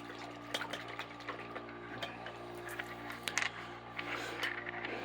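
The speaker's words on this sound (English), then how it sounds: "And then I'm going to rinse it out in the bucket over here." Something being rinsed out in a bucket of water, with faint irregular sloshing, dripping and small clinks close by over a low steady background hum.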